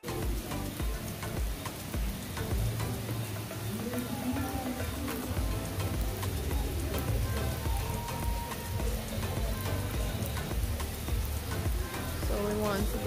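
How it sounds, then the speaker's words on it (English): Heavy rain pouring down at a beach resort on Jamaica's south coast, a dense, constant hiss of drops striking surfaces, loud and close, with faint voices underneath. "It's started to rain harder."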